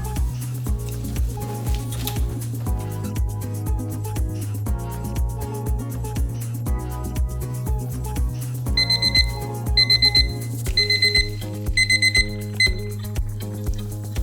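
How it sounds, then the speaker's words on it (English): A kitchen timer set for ten minutes goes off while pizza muffins bake, giving a string of bright, clipped electronic beeps in quick repeated groups over a low steady hum. "our 10-minute timer just went off"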